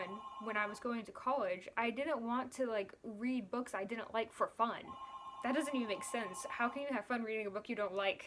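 A telephone rings repeatedly in the background, steady trilling bursts under continuous close speech from someone talking.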